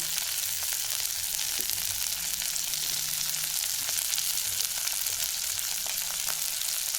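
Onions fry in a pan for mutton sambar, a steady, dense sizzle with bright crackle that continues evenly throughout with no talking.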